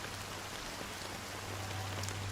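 Rain sound effect: a dense, steady downpour hissing evenly throughout, with a constant low hum beneath and scattered close drops, with no voices.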